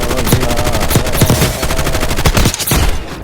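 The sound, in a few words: gunfire in Warzone Mobile video game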